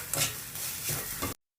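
Chilli powder and coriander powder being stirred in a pan for a drumstick curry, a close scraping stir with soft sizzling, in two or three strokes over about a second, with no talk.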